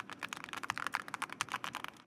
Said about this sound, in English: this is my new custom keyboard, which is hopefully my last ever one